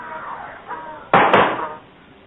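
A sound effect of the heavy door of Noah's ark slamming shut. A quiet stretch gives way to one loud, abrupt thud with a quick second impact, then fades into a short rumbling decay.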